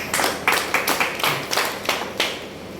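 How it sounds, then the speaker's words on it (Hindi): Audience clapping at a birthday celebration event for a social worker, heard as a series of loud, uneven bursts of claps with no talk over them. "एक बार जोरदार ताली।"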